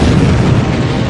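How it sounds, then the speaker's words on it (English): Huge volcanic explosion of Krakatau, a loud, dense, continuous roaring rumble filling the whole moment with no letup, close and overwhelming. "Less than an hour later, a second huge explosion follows."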